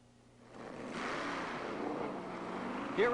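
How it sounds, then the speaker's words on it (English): Bill Shrewsbury's Dodge Dart wheelstander drag car running at the 1977 NHRA World Finals, Ontario Motor Speedway: a broad engine roar that swells in after half a second and holds fairly steady at a distance, with a sharper burst at the end. "you're watching Bill Shrewsbury make this Dodge Dart stand on its hind legs and bark at about 116 miles per hour"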